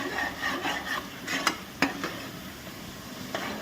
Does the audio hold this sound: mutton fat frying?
yes